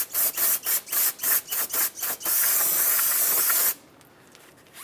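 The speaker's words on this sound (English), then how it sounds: "I'm going to hit it with some brake clean and get rid of the greases" Brake cleaner aerosol sprayed close up onto the hub surface of a 2007-2015 Mazda CX-9 during a suspension knuckle replacement: a quick series of short hissing bursts, then one long sustained spray that cuts off abruptly.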